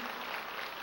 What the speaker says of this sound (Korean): 이거 하나님께 영광 드리는 박수죠